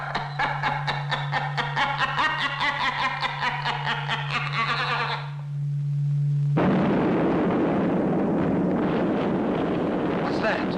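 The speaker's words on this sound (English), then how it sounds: "What was that explosion?" A sudden loud, broad rumbling blast cuts in midway after a steady hum and tonal buzzing, then a sustained roar continues to the end.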